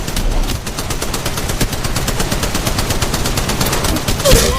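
Gunfire in the mobile game Apex Legends Mobile, played on a Galaxy S21 5G: a loud, rapid, evenly spaced burst of automatic shots that runs almost unbroken, ending with a sharper final crack.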